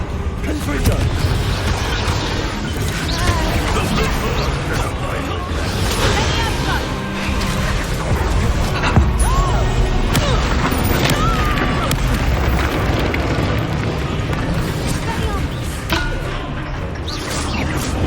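Blasting-spell explosions and combat impacts from Hogwarts Legacy crash and thump amid a dense, continuous layer of loud battle noise and music-like effects, with no single blast standing clearly apart.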